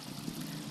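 Water gushes steadily from a leaking mainline pipe, a continuous close broadband rush with no breaks across the short moment.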